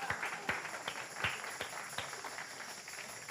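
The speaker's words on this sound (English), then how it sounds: "Can we give the choir another round of applause?" Sparse, quiet clapping from a small audience at a Sunday celebration service, honoring a choir; a handful of distinct claps stand out, spaced irregularly, over a faint room background.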